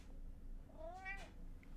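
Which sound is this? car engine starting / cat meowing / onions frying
cat meowing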